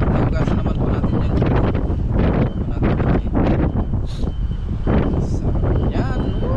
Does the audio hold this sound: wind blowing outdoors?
yes